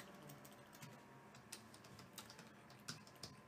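Quiet typing on a computer keyboard, a string of light, irregular key clicks close by, with no talk.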